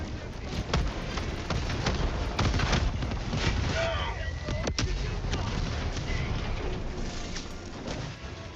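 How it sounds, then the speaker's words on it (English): A thrown grenade going off in a video game, with booming blasts and scattered gunfire heard over a steady, rumbling battle soundscape, plus a few faint chirps, holding at moderate loudness through the whole stretch. "Reloading! Throwing grenade!"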